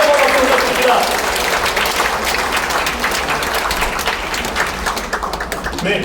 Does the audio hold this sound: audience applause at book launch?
yes